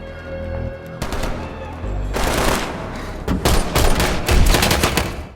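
Heavy gunfire in a film's shootout between robbers and corrupt officers: loud bursts of automatic fire and repeated shots crackling almost without pause, with booming low impacts and no clear speech.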